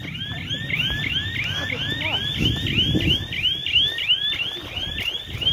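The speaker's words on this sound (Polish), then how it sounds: "Kurwa, alarm, alarm!" An intruder alarm wails in rapid repeating rising electronic chirps, loud and continuous, with rustling and movement noises underneath.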